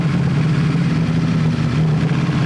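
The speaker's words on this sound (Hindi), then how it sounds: "just because it has dry clutch की साउंड बहुत ज़्यादा आती है" Ducati V4 SP2 engine idling steadily with its dry clutch rattling, a close, loud and continuous mechanical hum with a busy chatter layered on top and no voices.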